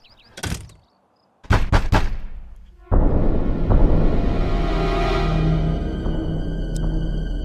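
Knocks on a door in The Sims come in two short clusters of sharp raps separated by a pause, followed by a loud, sustained swelling rumble.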